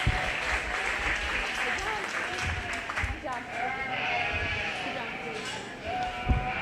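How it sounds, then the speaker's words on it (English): An audience claps steadily throughout at a 4-H/FFA sheep show, with sheep bleating in the background. "give these kiddos a really nice round of applause"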